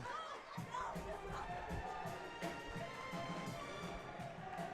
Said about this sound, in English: We have a mid-quarter cheer off